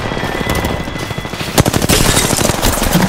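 Triple Take weapon in Apex Legends fired at close range like a shotgun, a rapid string of loud, punchy gunshots with a denser burst of fire near the middle, close and alone.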